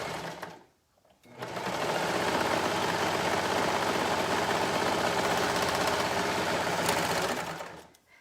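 A sewing machine stitches through several layers of fabric in a loud, steady mechanical whir with a fast rhythmic chatter, starting after a brief pause and running for several seconds before stopping.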